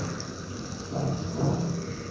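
Moong dal mangochi fritters frying in hot oil in a pan, a dense, steady close-up sizzle and bubbling with no talk over it.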